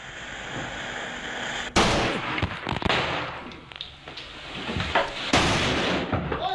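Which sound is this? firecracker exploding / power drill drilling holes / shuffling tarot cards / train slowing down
firecracker exploding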